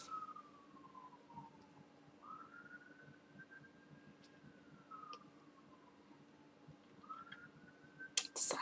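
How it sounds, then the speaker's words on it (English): An emergency vehicle siren wails in slow rising and falling sweeps, distant and fairly faint against a quiet indoor background, ending in a brief clatter. "I'm waiting for the siren to pass."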